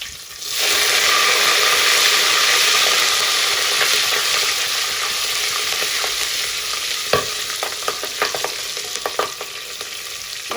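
Four or five green chillies hit hot oil beside curry leaves while cooking hesarubele kichdi, setting off a loud, steady sizzle that hisses continuously with scattered crackles and stirring clicks toward the end, with no voices.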